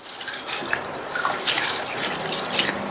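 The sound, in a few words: washing sago pearls in water by rubbing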